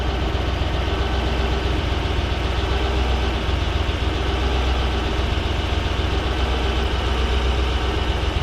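Warm 1UZ V8 engine in a Toyota Hilux Xtra Cab idling at a steady, even rumble, loud and close, running without a break and with no voices over it.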